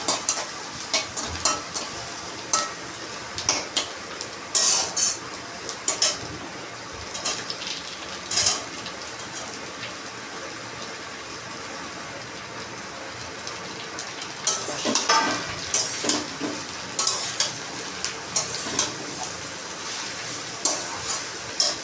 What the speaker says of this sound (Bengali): এবার রসুনটা দিয়ে একটু নেড়ে ছেড়ে এবার সমস্ত তরকারিগুলোকে এই কড়াইতে দিয়ে দেবো